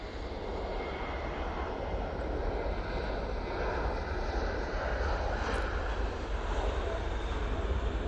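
Finnair airplane departing Manchester Airport, a steady, broad engine roar from a moderate distance that holds without letup, with no talk over it.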